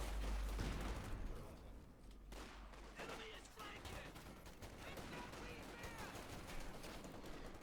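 Gunfire crackles through a Company of Heroes 2 match as OKW troops clash with a US Forces cavalry rifleman and a Stuart light tank, shots and bursts rattling irregularly over steady battle noise and a commentator's voice.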